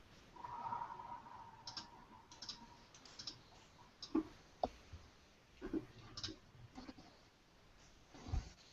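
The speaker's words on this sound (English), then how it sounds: "I hear someone typing" Someone types on a computer keyboard, producing faint, irregular clicks and taps scattered through a quiet room-tone background.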